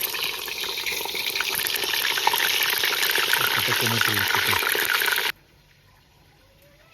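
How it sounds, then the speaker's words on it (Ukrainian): Meat pieces searing in small batches in a hot kazan for kazan kebab, a loud, steady sizzle hiss running for about five seconds before cutting off to near silence. "порціями зараз буду кидати м'ясо сюди. Щоб, запечатати."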